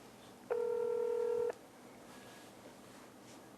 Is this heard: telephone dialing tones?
yes